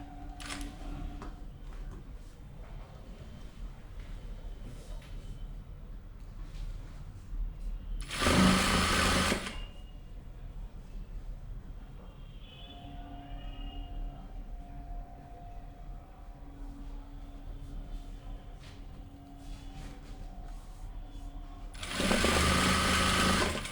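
A sewing machine stitching the hem of a kameez, with two loud, close bursts of rapid mechanical whirring, one short and one near the end, separated by a long stretch of quiet room noise.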